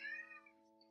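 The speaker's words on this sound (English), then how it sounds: "If you can hear the cat downstairs meowing," A faint, short meow from a cat somewhere off, fading quickly over a steady low electrical hum.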